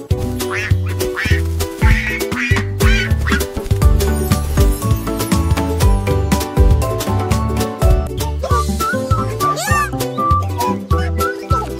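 A cartoon duck quacks repeatedly over bouncy children's song music, loud and rhythmic, mixed with other playful animal sounds.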